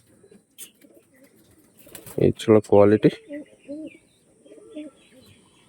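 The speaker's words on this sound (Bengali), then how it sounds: "একদম হাই কোয়ালিটির পায়রা, দেখলে বুঝতে পারবেন" Pigeons of a rare, high-quality breed coo softly in a rhythmic burst of several notes, close by, with a few wing flaps and a voice speaking briefly over them.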